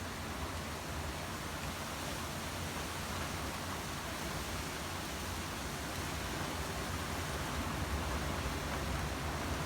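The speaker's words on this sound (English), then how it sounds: "Here comes some rain." Rain and wind from Hurricane Irma form an unbroken, even roar of broad noise lasting the full stretch, fairly loud and constant, with no voices.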